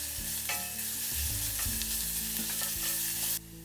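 Garlic and ginger frying in hot oil in a saucepan over medium heat, a loud continuous sizzle with occasional stirring clinks, no voices.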